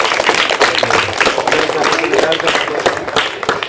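Applause for school folk dance winners at a sub-district arts festival in Kerala: a dense, continuous burst of many hands clapping, loud and close, lasting several seconds with crowd noise underneath.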